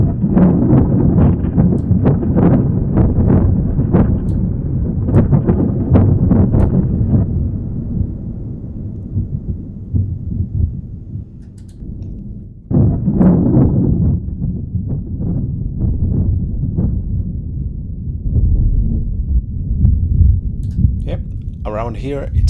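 Synthesized thunder-like noise from the Serum synthesizer: loud, rumbling low-heavy bursts that swell, fade around the middle, then surge again in long rolling waves with crackly upper texture, no talking.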